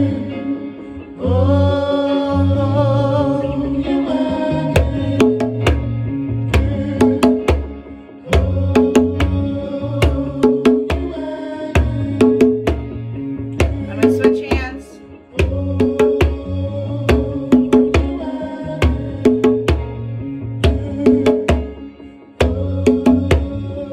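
Drum hits tapped on the side of a drum ring out as sharp, regular strikes layered over a backing music track of a worship song, steady and prominent throughout with a short break partway.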